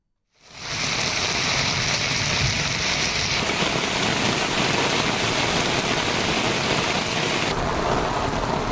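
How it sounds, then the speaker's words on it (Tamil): Heavy rain pours during a thunderstorm with lightning around Vandavasi, Tamil Nadu, a loud, dense, unbroken roar that starts abruptly and holds steady without any voices. "வந்தவாசி மற்றும் சுற்றுவட்டாரங்களில் இடி மின்னலுடன் பலத்த மழை பெய்தது."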